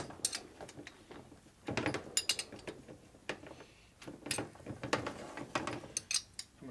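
Ratchet wrench clicking on the motor bolts of a 1983 Harley FLTC 80ci shovelhead engine during a rebuild, in short irregular bursts of metallic ratcheting and clanks, close but fairly quiet, with no talking.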